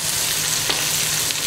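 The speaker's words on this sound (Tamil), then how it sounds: "ரெண்டு சைடும் நல்லா ஃப்ரை பண்ணிக்கணுங்க" Karimeen fish fries in a pan of hot oil, a loud unbroken sizzling hiss that fills the moment, close up with no voices.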